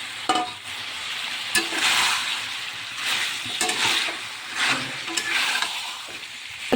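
Fried eggs stirred into thick spiced masala with garam masala in a pan, repeated close scraping and stirring strokes over a continuous sizzle, no voices.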